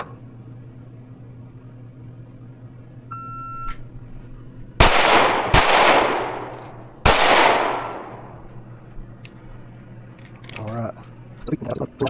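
Three loud, sharp pistol shots from a Fusion Firearms XF Pro during a shooting drill, each cracking and ringing out with decay, the last two about a second and a half apart, followed by faint handling noise and a brief voice.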